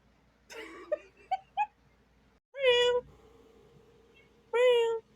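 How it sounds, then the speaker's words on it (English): A cat meows several times nearby indoors, short and rising cries with quiet pauses between them and no talking over them. "There's a cat here."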